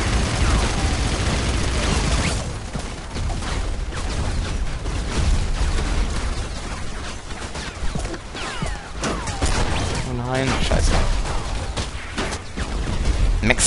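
Dense, continuous machine-gun fire and explosive bursts from the game Battlefield Heroes, with rapid automatic fire and crashes filling the whole stretch, loud and chaotic.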